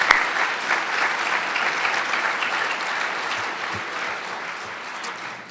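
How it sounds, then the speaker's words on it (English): Sustained applause from a crowd, steady clapping that carries through the whole stretch before easing slightly near the end. "Let's give them a round of applause for the first round of these conversations."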